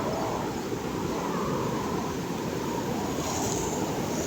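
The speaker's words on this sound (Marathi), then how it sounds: "आता बघा पाणीचा कोर्स बघा, आवाज बघा पाण्याचा" Steady, loud rush of floodwater during torrential Konkan monsoon rain, a continuous broadband roar with no breaks, close by and unaccompanied by voices.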